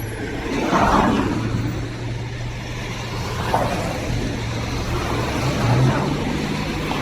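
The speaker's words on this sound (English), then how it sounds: "An old Citroen." An old Citroen car drives past on a Zurich street, a steady engine and road rumble that swells and fades against ongoing city traffic noise.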